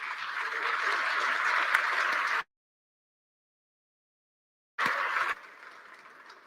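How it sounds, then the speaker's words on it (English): Audience applause at an award ceremony, a steady wash of clapping that cuts off abruptly into silence, then returns briefly before fading to a softer tail. "please give yourselves a round of applause"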